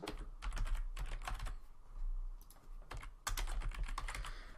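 Keywords being typed on a computer keyboard for a soccer World Cup video website, heard as close, brisk bursts of clicking keystrokes with short pauses between runs.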